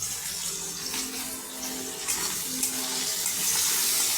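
Chopped onion, whole garlic cloves and green chillies fry in a pan with a continuous, fairly loud sizzling hiss that swells slightly toward the end, with no talking.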